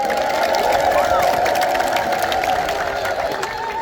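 A large crowd ululates at an Ethiopian Orthodox church inauguration. The loud, sustained, high trilling voices blend with cheering and continue unbroken throughout.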